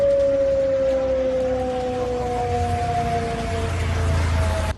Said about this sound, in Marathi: सायरन वाजण्यास सुरुवात झाल्यानंतर पूर्णतः ब्लॅकआउट झालेला आहे